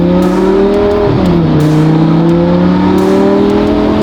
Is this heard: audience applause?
no